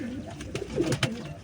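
A black-spotted female pigeon gives a short burst of low, throaty cooing close by, a few quick rolling notes rising toward the end, with no talk.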